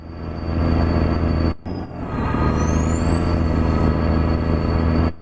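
Custom V12 Cat 3412 engine in a heavy, nearly 10-meter semi truck in American Truck Simulator, a loud steady diesel rumble with low harmonic drone and a brief dropout, plus a rising whine midway.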